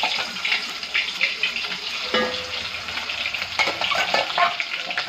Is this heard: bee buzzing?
no